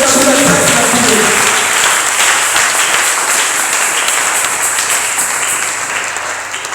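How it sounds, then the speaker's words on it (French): A church congregation bursts into loud, sustained applause that slowly thins out, with a few voices calling out over the clapping. "Est-ce qu'on peut acclamer le Seigneur?"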